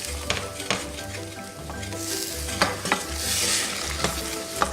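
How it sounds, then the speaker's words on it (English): Spoon scraping browned bits off the bottom of a sizzling pan for sambuca shrimp with leeks, repeated scratchy strokes over a loud, continuous frying hiss. "you just use your spoon to remove that flavor from the bottom of your pan"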